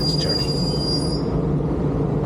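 Train wheels squeal loudly on the rails over a steady rumble as a short train ride heads into Strasbourg, the high screech fading after about a second under continuous rolling noise.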